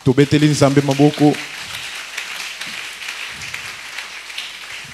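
A church congregation at a Sunday service breaks into applause after a short sung or spoken phrase, a steady wash of many hands clapping that carries on for several seconds.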